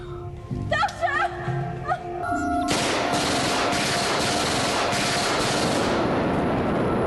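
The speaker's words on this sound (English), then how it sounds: "Why did he fire though?" Gunfire bursts out in a Doctor Who episode from the serial The Caves of Androzani, a loud sustained barrage that follows brief voices and tones and fills several seconds before easing.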